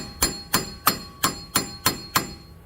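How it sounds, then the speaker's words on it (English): Seven sharp, evenly spaced metallic hammer taps ring out close and loud against a car's wheel bearing hub, each strike decaying quickly before the next. "I'm just going to wrap it lightly with a hammer and see if that does anything."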